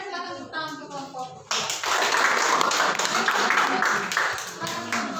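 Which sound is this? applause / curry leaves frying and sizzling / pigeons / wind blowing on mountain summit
applause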